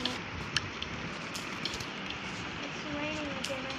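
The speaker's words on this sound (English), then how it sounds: "It's raining again." Rain falls in a modded Minecraft-style video game, a steady hissing patter throughout with a few louder drips, while voices talk faintly over it.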